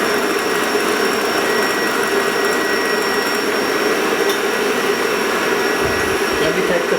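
An electric mixer runs steadily in a restaurant kitchen, a loud continuous whirring drone with a faint clatter near the end.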